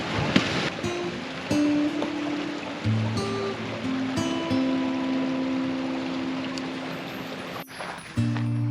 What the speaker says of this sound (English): It literally just erupted and started flowing downhill next to the trail.